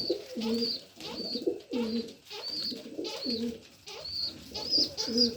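Pigeons coo close by in repeated throaty, rolling calls, several in a row with brief pauses between them.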